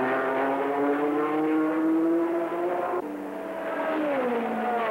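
A Ford GT Mark II race car at the Le Mans 24-hour endurance race roars at high speed, its loud sustained engine whine holding steady before a sharp gear change and renewed climb, with no voices.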